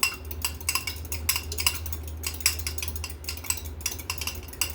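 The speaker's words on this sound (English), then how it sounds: "Whisk it if you want to be fancy. Mix it." A cracked egg whisked in a bowl for an egg wash: a steady run of quick metallic clinks and scrapes from utensil against bowl, close and fairly even in rhythm over a low background hum.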